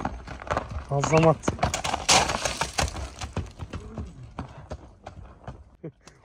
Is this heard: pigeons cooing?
no